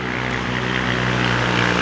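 A loud, steady engine drone with a deep exhaust rumble, continuous and close throughout, no talking.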